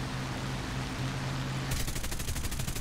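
Aircraft guns on a Lincoln Mk.II bomber firing in the video game War Thunder, a rapid, evenly spaced burst of shots that starts abruptly partway through over steady engine drone.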